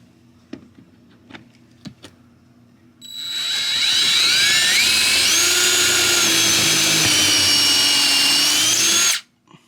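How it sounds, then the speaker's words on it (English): A power drill with a small bit whirs steadily for several seconds, loud and close, its pitch wavering slightly as it bites, after a few quiet knocks and taps. "So I'm starting off with a smaller drill bit, and then I'm going to work up to a bigger one."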